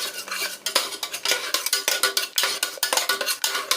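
A spoon scrapes and clinks rhythmically against a pan while ground tomato is sautéed, with quick repeated stirring strokes up close and only a faint sizzle underneath.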